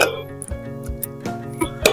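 Cooked prawns being transferred into a vessel in a home kitchen, with several short metallic clinks and knocks of dishes and utensils at irregular intervals, fairly close and moderately loud.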